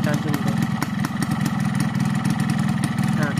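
A Husqvarna HP two-stroke motorcycle engine idles steadily at close range, giving a continuous rough low putter, while someone talks over it throughout.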